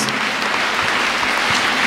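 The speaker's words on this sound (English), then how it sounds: "Give glory to God. Clap for Jesus." A church congregation at a Sunday service claps steadily and loudly for the full stretch, a dense, even wash of applause with no pauses.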